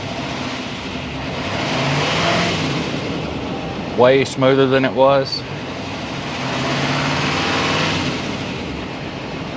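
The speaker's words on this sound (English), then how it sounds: "I don't like just revving it up like that" Truck engine revving while the vehicle sits up on a jack after an injector connector repair, a short burst of several quick rising revs over a steady idle hum, with someone speaking briefly nearby.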